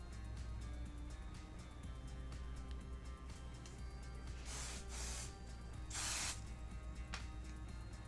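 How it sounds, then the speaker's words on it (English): Quiet handling noises, then two bursts of aerosol hair product spray hissing during a blow-dry, one around the middle and a longer one shortly after. "spraying Boost in after I shake it."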